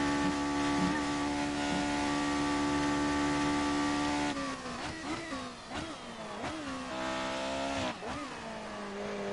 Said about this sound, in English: Now just let the car use all its might. I'll just let you listen to that engine.